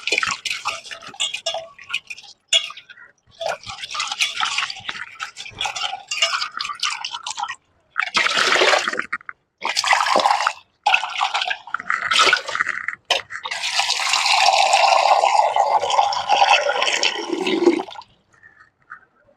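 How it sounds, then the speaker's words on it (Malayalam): Guava leaves are washed under running water, with bursts of splashing and pouring broken by short pauses and a long, loud continuous stream toward the end, close and without talking. "പേരക്കിൻ്റെ ഇല നന്നായി കണ്ടോ നല്ലോണം കഴുകുക."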